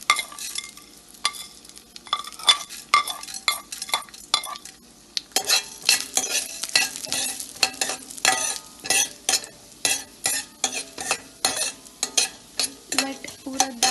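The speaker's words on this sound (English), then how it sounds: "To the same oil I am adding mustard seeds, next cumin seed, even urad dal," Mustard seeds, cumin and urad dal fry in hot oil for poha. A light crackle swells after a few seconds into dense popping and sizzling, with occasional utensil clinks.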